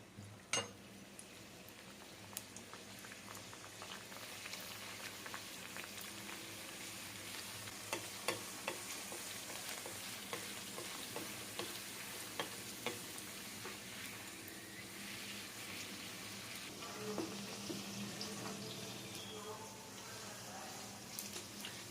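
Bhatura dough frying in hot oil, giving a steady, broad sizzle with scattered pops and crackles that run the whole time, fairly quiet and close.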